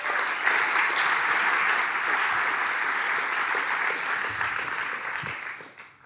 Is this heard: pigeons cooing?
no